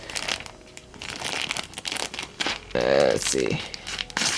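Plastic LEGO Hero Factory parts bag crinkling and being cut open with scissors, close and fairly loud, in several crisp bursts with a brief snipping stretch, while a voice speaks briefly.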